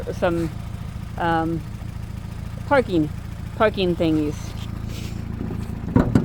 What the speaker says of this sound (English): under the hood, we've got a little lawnmower engine. And it's just chugging away